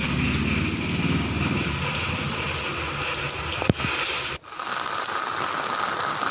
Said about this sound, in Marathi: बघा तुम्हाला दाखवतो पाऊस किती मोठा पडायला आपला